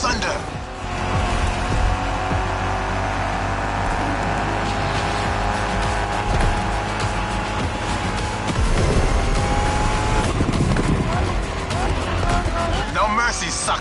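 A muscle car races in a video game, engine roaring continuously with tires squealing and skidding through corners, while a voice talks over the loud driving.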